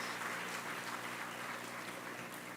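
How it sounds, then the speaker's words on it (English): Steady, evenly spread applause from an audience at a university welcome ceremony for new students, heard at moderate distance without breaks or voices. "they need a very big round of applause."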